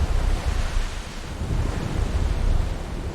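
Ocean surf rolls in a continuous low roar with a windy hiss, waves swelling and easing in a steady, enveloping wash with no voices.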